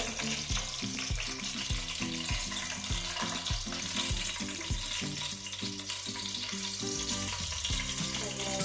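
Onion frying in oil for Mangalore-style chicken pulimunchi sizzles steadily and close-up, with regular clinks and scrapes from stirring.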